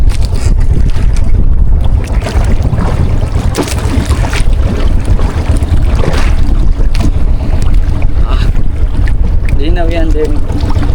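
Rough sea and gusting wind battering a small fishing boat out at sea in bad weather, a loud, continuous roar of wind buffeting and water slapping with no pauses throughout.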